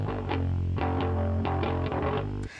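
Heavily distorted bass guitar through a Chris Lord-Alge plugin in a rough mix, playing a gritty, driving riff with sustained dirty notes, loud and continuous before stopping abruptly.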